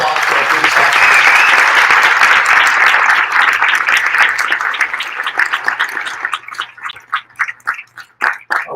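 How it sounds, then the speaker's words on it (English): Audience applause at a Miami mayoral inauguration ceremony for police officers, a loud sustained burst of many hands clapping that thins over the last seconds into scattered individual claps. "Please give a big round of applause for our police officers."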